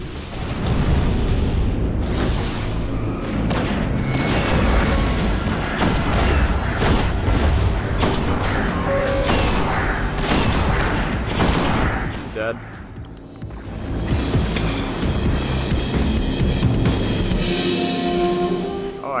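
Enemies blowing up during a hard Vault of Glass raid in the video game Destiny, a run of heavy booms and bursts layered with gunfire and game effects, loud and dense, dipping briefly before picking up again.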